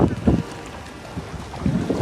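A boat runs across the sea off the Konkan coast, wind buffeting the microphone in heavy gusts over a low rumble of engine and water.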